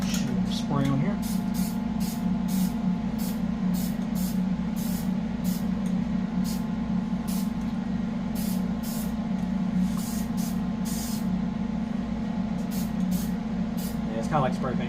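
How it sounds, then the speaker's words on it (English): Aerosol spray hisses in many short, rapid bursts onto a Farmall 450 diesel tractor, close by, over a steady low engine hum, with brief talking at the start and end. "Shoot spray on here."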